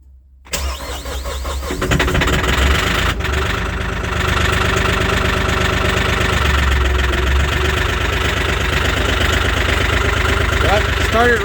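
A Mahindra 1635 HST cab tractor cranks and starts after a -22°C cold soak, then runs on at a rough, uneven idle. The engine is loud and steady, and faint speech sits in the background.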